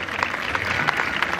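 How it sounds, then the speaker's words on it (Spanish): Steady applause from the audience at a clown show, a continuous dense patter of clapping with no breaks. "¡Fuerte el aplauso para ellos dos!"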